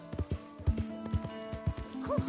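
Horse hooves clip-clopping at a walk in Red Dead Redemption 2, a regular series of about eight close, hollow thuds with a brief snort or whinny near the end.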